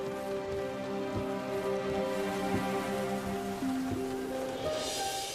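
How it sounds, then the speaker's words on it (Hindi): Steady rain falls continuously for several seconds beneath sustained musical tones, with no voices present. "ऐसी बारिश हो रही थी उस वक्त भी"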